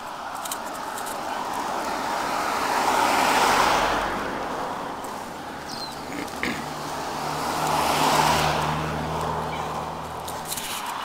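Cars pass along a road during a morning walk, two broad swells of tyre and engine noise rising and fading around the third and eighth seconds over steady outdoor rumble and wind.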